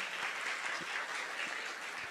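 A church congregation claps steadily together during a worship service, a dense continuous wash of applause with no pauses.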